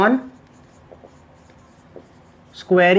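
Marker strokes on a board during a maths lecture, faint scratchy taps in the quiet gap between a teacher's speech at the start and end.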